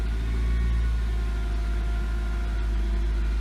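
A Nissan Sentra with a stalling fault idles at around 1,000 RPM, held there with the accelerator. Its engine gives a steady, low, unbroken drone that stays close and fairly loud throughout.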